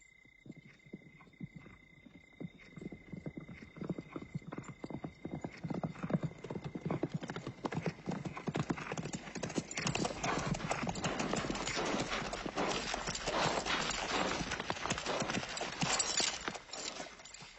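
Hundreds of army horses advance with a dense, steady clatter of hooves that builds from sparse clip-clops into a loud, continuous rumble, with a whinny early on and faint voices underneath.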